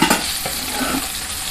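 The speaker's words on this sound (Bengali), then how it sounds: "দুদিক উল্টে পাল্টে ভেজে নিচ্ছি এইভাবে" Bata fish fries in hot oil in a pan, a close, loud, continuous sizzle with a couple of faint utensil taps at the start.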